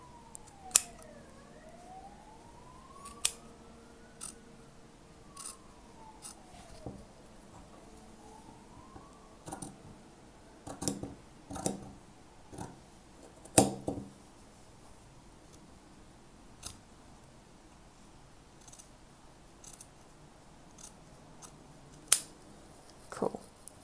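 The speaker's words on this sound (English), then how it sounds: "Now I am going to trim off the seam allowance, the excess seam allowance." Scissors snip through fabric in scattered sharp cuts, some in quick bursts, while a faint siren wails and sweeps in the distance.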